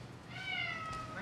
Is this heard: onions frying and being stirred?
no